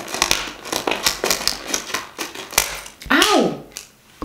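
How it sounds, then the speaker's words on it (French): A pair of scissors snipping open packaging, a quick series of sharp close clicks and crinkles followed by a longer tearing rustle of plastic. "j'attrape ma paire de ciseaux et j'ouvre"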